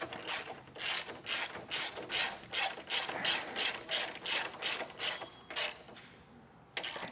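A hand ratchet clicks in a steady rhythm, stroke after stroke, close and clear. It is tightening bolts on a vehicle tow base plate kit for a 2025 Buick Encore GX, with a short pause near the end.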